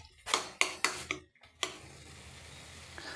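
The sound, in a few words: stir-frying garlic fenugreek vegetable with peanut-sesame gravy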